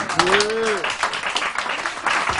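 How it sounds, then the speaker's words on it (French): Audience applause at a French stand-up comedy show, a dense burst of clapping from a live crowd, with a voice briefly calling out over it near the start. "Mesdames et messieurs, Felix Johnson, sous vos applaudissements."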